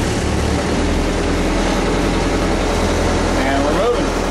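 A vehicle engine rumbles loudly and continuously with heavy low-end noise as the clutch is released and a little throttle is given to pull away.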